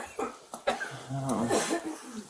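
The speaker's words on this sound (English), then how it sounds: "Man, everybody's coughing in here." A few short, sharp coughs close by, with some low murmuring around them.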